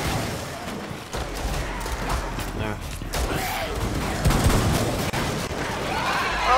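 Gunfire in the Rainbow Six Siege game, with dense bursts of shots and rattling fire at moderate loudness under and between people talking.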